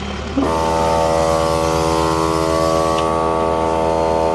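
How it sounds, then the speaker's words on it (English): An old Milwaukee air compressor kicks on after a short pause to inflate a mud-caked tire during a vehicle recovery, settling into a loud, steady droning hum that holds to the end. "We'll see if the old Milwaukee compressor can fill it up"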